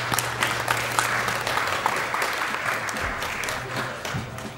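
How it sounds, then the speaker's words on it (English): Audience applause fills the room, a steady dense clatter of many hands clapping at close range with no voices over it. "thank you for the claps"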